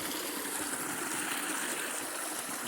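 A small outdoor creek flows beneath a little footbridge, giving a soft, steady wash of running water with no voices.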